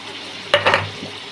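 Ginger garlic paste lands in a pan of chicken frying in its own released oil, giving a couple of quick close sizzling, stirring bursts over a faint steady fry, then a softer clink.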